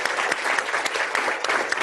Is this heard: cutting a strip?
no